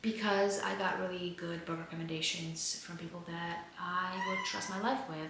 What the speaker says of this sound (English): Oh my God, sorry, that was my cat.